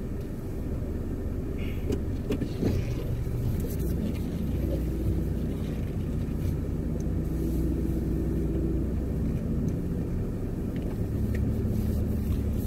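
A car driven after a brake caliper repair, a steady low engine and road rumble inside the cabin, continuous and moderately quiet with no talking.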